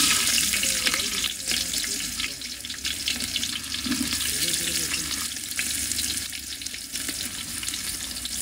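Onions frying in hot oil for a Bengali chicken roast with garam masala, a steady loud sizzle with stirring scrapes running throughout, close up and without talk.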